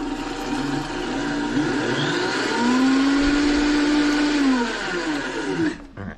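A blender whirs steadily as it purees tahini sauce, a loud continuous motor drone holding for about six seconds before cutting off abruptly at the end, with no talking over it.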